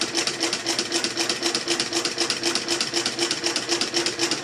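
A Consew 223R cylinder arm sewing machine with a swing-away right angle binder stitches at a fast, even pace. The close, loud, rhythmic mechanical whir runs steadily with no pauses.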